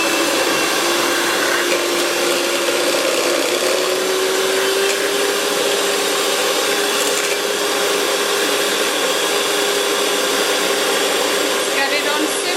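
An electric hand mixer whirs steadily at high speed through custard tart filling, a loud continuous motor whine running unbroken from start to finish with no talk over it.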